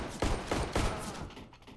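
Rapid bursts of Glock pistol fire in CS:GO on the Mirage map during a competitive esports match, three or four loud, close shots in quick succession that fade into a short tail.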